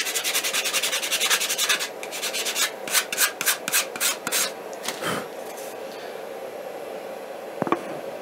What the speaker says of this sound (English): A little more sandpaper will be required.